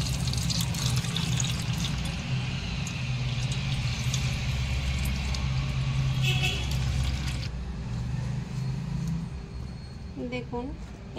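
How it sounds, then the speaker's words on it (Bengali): Salted, turmeric-coated raw mango pieces are wrung tightly in a clean cloth, releasing a steady splashing trickle of water for several seconds that then thins and stops, with soft kitchen background noise. "দেখুন এইরকম টাইট করে চিপে নিতে হবে যাতে কোনো জল না থাকে।"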